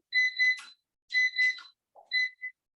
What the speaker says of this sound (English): It's my timer.